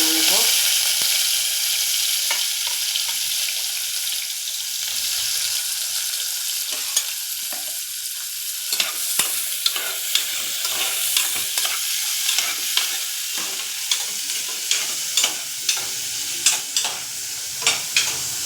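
Onions frying in oil in a pot for chicken biryani, a continuous loud sizzle with repeated scraping stirs that grow sharper and more rhythmic toward the end, no talking.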